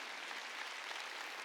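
A church congregation applauds during an Easter Sunday service, a short steady wash of clapping with no talk.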